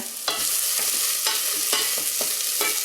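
Onion fries in hot oil with a steady, close sizzle broken by repeated scraping stirs of a utensil about every half second, loud and continuous with no voices.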